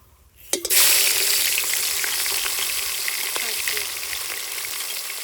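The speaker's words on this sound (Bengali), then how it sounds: "এখন আমি মাছের মাথাগুলো এক এক করে ভেজে নেব।" Fish heads dropped one at a time into hot mustard oil in a kadai burst into a loud, steady sizzle that crackles on close by without pause.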